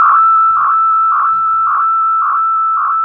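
Oscillating repeats from an FX8 delay unit form a steady chain of pure beeping tones, about six even pulses over a continuous high whine, loud and clean with no voices.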